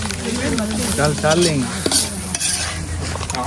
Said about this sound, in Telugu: చికెన్ ఫ్రై చూడండి.